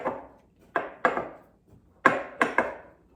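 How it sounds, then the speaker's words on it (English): Bread dough kneaded by hand on a floured work surface, giving a handful of soft, close thumps and slaps in an uneven rhythm with quiet gaps between, and no voices. "this is almost incorporated and then I'm going to knead it for a few minutes here"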